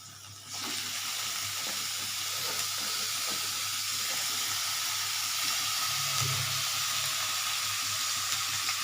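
Young banana stem (thor) dropped into a hot pan for a rice-and-potato ghonto sizzles in a steady, close, loud hiss that holds for several seconds without talk, with a brief watery bubbling swell near the end.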